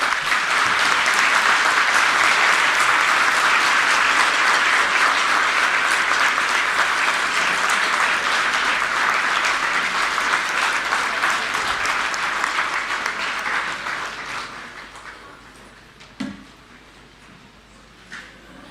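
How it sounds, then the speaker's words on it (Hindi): A large audience at a government school event in Delhi claps loudly and steadily for over ten seconds, then the applause gradually thins out and tapers off into a few scattered claps. "सभी एक बार खड़े होके पूर्व शिक्षा मंत्री मनीष सिसोदिया जी के लिए और मुख्यमंत्री साहब के लिए एक बार जोरदार ताली बजाएं"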